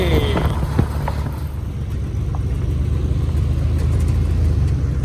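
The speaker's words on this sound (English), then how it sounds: "We're driving them Jeeps, buddy." A Jeep drives along a road in southern Minnesota on the Jefferson Highway convoy, with a loud, steady low engine rumble and road noise heard close up, as from inside or beside the vehicle.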